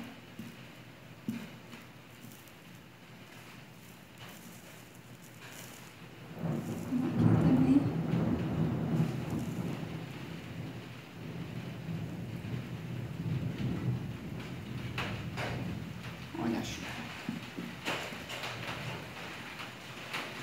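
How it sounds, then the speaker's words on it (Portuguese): Steady rain falls with rolling thunder that swells into a deep, heavy rumble midway and then lingers, heard in a home kitchen during cooking. Faint voices are present under the storm. "Ó, a chuva."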